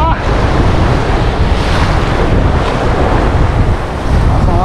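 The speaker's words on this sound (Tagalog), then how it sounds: "Sobrang alon." Large sea waves and strong wind roar continuously at sea during fishing under a strong northeast monsoon, a loud, dense wash of surf with heavy wind buffeting the microphone.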